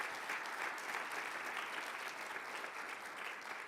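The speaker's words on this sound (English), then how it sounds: "Let's give them a round of applause." Audience applause for startup companies after their pitches at a semi-finals competition, a continuous crackle of many hands clapping in a large room, fairly faint and steady.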